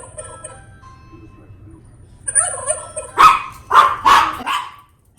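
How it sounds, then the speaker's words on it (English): A Ring II electronic doorbell chime rings out a short tune, followed by a burst of warbling turkey-like gobbling calls, near and fairly loud over a low hum. "And you heard it gobbled like a turkey."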